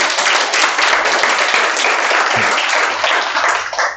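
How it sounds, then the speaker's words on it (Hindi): A roomful of nursing-exam coaching students at the end of a lecture claps loudly for themselves, a dense, continuous burst of applause that tapers off at the end. "एक बार जोरदार तालियां अपने अपने लिए"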